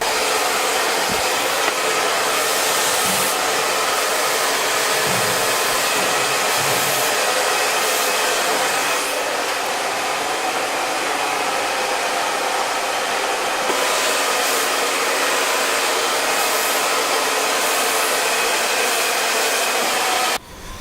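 A hair dryer runs steadily and loudly throughout while a client's hair is blow-dried at a salon, a continuous broadband whoosh that cuts off abruptly at the very end.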